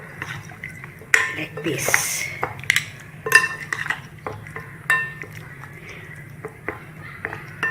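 Chicken leg pieces being mixed by hand with masala and cornflour in a bowl, with scattered clinks, scrapes and wet squelches against the dish, under a person talking.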